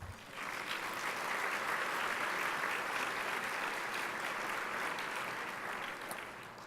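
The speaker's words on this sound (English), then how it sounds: "Please give them another round of applause." A banquet audience gives a round of applause, a dense, even clapping that swells in quickly, holds steady for several seconds, and tapers off at the end.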